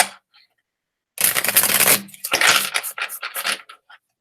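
A deck of tarot cards gets riffle shuffled, a quick flurry of crisp fluttering card snaps followed by shorter bursts as the cards are bridged and squared, close up with no talking.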